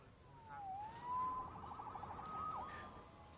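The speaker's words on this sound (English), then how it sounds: "Saved by the siren." Police car siren wailing in a city street, faint and distant, with a rising and falling tone over a steady hum of background noise.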